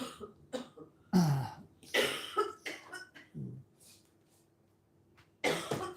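A woman coughs several times in short, harsh bursts, with pauses and a soft throat-clearing between them; close and fairly loud.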